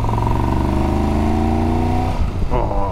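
A big-bore adventure motorcycle engine pulls under load with a rising, steady drone, then shifts abruptly near the end.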